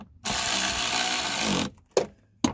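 A small hand ratchet drives screws into plastic during a hybrid car blend door replacement. A loud, continuous clicking run lasts over a second, then two short separate clicks follow.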